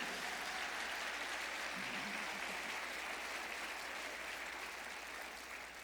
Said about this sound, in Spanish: Denle ese aplauso bien fuerte.